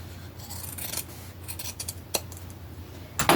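Scissors snip and rasp through fabric, trimming open along a marked outline on the back of an upcycled top; several short, close cuts with quiet gaps, ending in a sharper snip.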